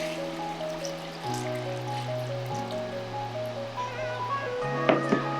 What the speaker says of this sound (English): So I'm just gonna pour that in.